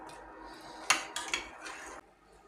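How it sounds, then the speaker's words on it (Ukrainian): A metal frying pan is set on a stove, a sharp knock followed by a couple of softer clinks, close up over a low background hiss. "Більшу температуру і буду ставити зараз сковорідку."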